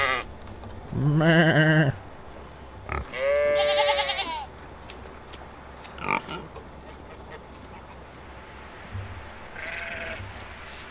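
Sheep bleat in the farming game Medieval Dynasty, two loud wavering bleats close together followed by a few softer grunts, with one later call sounding strained and retching. A voice briefly imitates a bleat.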